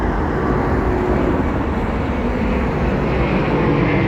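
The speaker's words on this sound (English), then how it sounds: "All the big planes are coming now." Large jet airliners pass near Heathrow Airport, producing a loud, continuous roaring engine rumble that stays steady throughout, dominating the outdoor scene.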